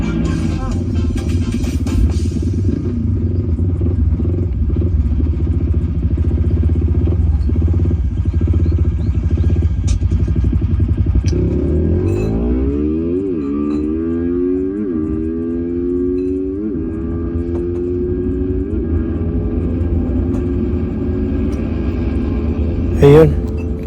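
Engines of a four-valve Honda XRM and a stock fuel-injected Suzuki Raider 150 racing, steady motor drone rising into repeated climbing revs as the bikes accelerate and shift, loud and continuous.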